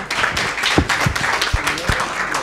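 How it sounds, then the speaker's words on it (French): Audience applause after a talk on a discussion program about blogs. A few distinct claps stand out over a thin background of clapping. "Merci beaucoup Claude, je crois qu'on peut applaudir cette intervention."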